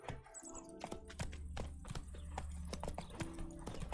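The horse Roach gallops in The Witcher 3, a rapid, steady run of close hoof clip-clops with a faint neigh-like tone beneath, no talk over it.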